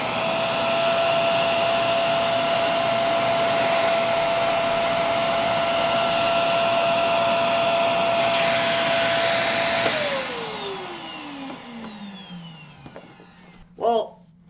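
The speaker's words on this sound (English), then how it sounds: "you're going to hear the real sound of the machine," Bissell Zing 2154 canister vacuum cleaner without a brush roller running on carpet, a loud steady whine with a high tone that winds down in pitch after about ten seconds as the motor shuts off, followed by a brief clunk.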